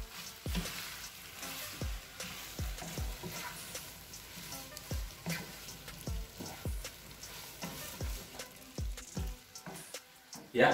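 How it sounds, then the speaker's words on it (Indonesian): Seafood mie goreng stir-fried with celery leaves and onion, sizzling steadily in a hot pan while a utensil scrapes and knocks against the metal in a repeated rhythm. "setelah itu terakhir kita masukkan daun sop dan bawang. Aduk hingga merata."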